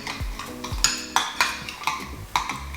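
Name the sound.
mixing a sauce in a bowl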